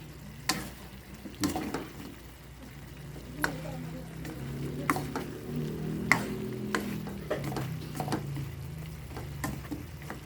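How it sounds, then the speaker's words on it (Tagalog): Food stirred in a frying pan at a roadside meal, with a steady sizzle of frying and occasional scraping and clinking of a utensil against the pan. "Halo-haloin muna natin ulit para yung nasa ilalim eh"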